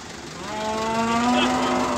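A calf moos in a drawn-out, rising call at a busy livestock market, with a steady hum of crowd noise and distant activity underneath.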